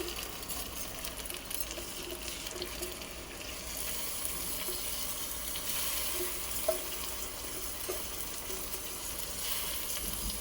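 Moong dal frying in a pan for khichdi, a steady close sizzle with a watery, hissing texture running without pause and no voices.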